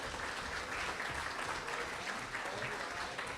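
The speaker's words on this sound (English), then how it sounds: "These ladies, yeah, you can applaud. Go ahead." Applause from the audience at a spring sports banquet honoring baseball, softball and golf, a dense, even patter of many hands clapping, fairly soft and distant, continuing without a break.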